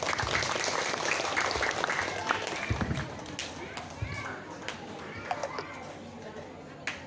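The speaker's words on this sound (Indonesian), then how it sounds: "Boleh tepuk tangan lagi." Audience applause at a Maulid Nabi Muhammad celebration stage show, a steady wash of clapping from a crowd that stays loud throughout with a slight dip midway, scattered sharper claps standing out.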